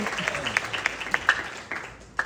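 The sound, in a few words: congregation applauding in church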